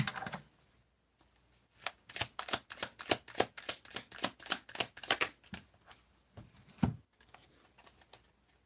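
A deck of archetype cards is shuffled up close, a quick rhythmic series of crisp riffling flicks lasting a few seconds, with a faint shuffle and tap afterward.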